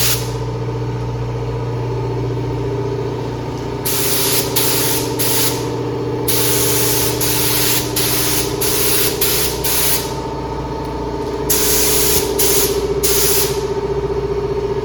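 Spray gun applying paint to an Audi hood and bumper in bursts, each hiss lasting a second or so, layered over a steady low booth or compressor hum; loud and close, no talking.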